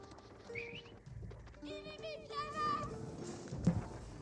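Horses moving across the map in an Age of Empires 4 match, a soft clip-clop of hooves mixed with game effects, bird-like calls and a brief thump near the end.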